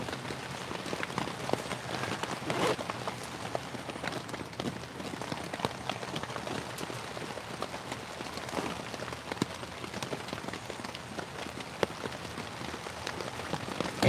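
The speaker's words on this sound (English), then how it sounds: "We got heavy rain." Heavy rain drumming on a hot tent while camping in Michigan, a steady dense patter of close drops with occasional sharper hits, faint and continuous with no talking.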